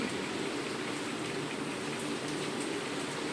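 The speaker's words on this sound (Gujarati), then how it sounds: "અહીંયા વરસાદ બહુ આવી રહ્યો છે, જુઓ તમને બતાવું" Heavy rain pours down outdoors in a village, making a dense, continuous hiss of drops on surfaces. It stays steady and unbroken the whole time, with no voices.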